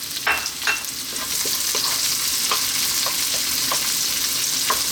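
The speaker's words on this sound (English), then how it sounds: "simply we're going to add our onions" Onions fry in sesame oil with garlic and ginger, giving a loud, steady, close hiss of sizzling with light clicks from stirring scattered throughout.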